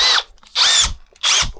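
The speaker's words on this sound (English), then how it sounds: "I think my little drill is going to break this apart." Small power drill loosening the wheels on a Harbor Freight jack, three short bursts of whirring with brief pauses between them, loud and close.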